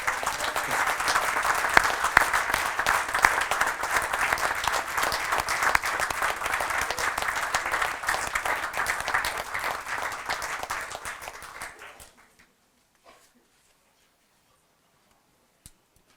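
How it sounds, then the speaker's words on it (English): A school board meeting audience gives students a round of applause, dense steady clapping lasting about twelve seconds before stopping abruptly into near silence with a couple of faint knocks. "please give them one more round of applause"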